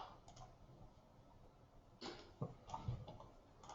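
A few quiet, sharp clicks scattered against a soft background hiss, like a computer mouse being clicked.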